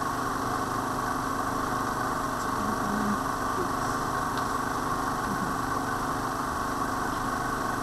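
An induction machine coupled to a DC motor generator runs under electrical load in a lab test, giving a continuous, even mechanical hum and whine with no pauses.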